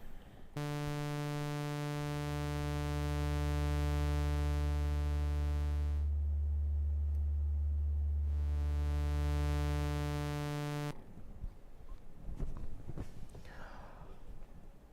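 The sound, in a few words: synthesizer sub-oscillator low tone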